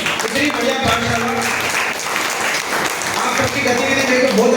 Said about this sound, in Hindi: एक बार आपकी पाठशाला के लिए जोरदार तालियां बजाओ